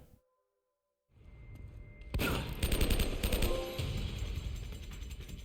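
Gunfire in the video game Uncharted Remastered ends in a headshot, opening with near silence before a loud, sustained stretch of dense, overlapping shots and impacts that keeps going to the end.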